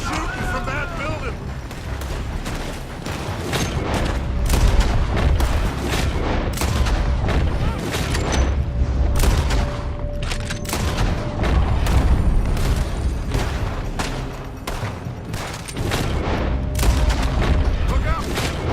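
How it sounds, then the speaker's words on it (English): Sustained gunfire from a building in Red Dead Redemption 2, with dense, repeated booming shots and volleys of varying loudness across the whole stretch, mixed with game battle noise and occasional voices. "They're shooting from that building!"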